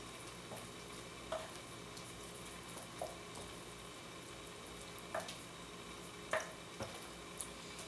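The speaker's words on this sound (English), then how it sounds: "Give it another good stir." A pan of food cooking gently on low heat, with a soft steady sizzle and occasional scraping stirs at irregular intervals, fairly quiet and with no talking.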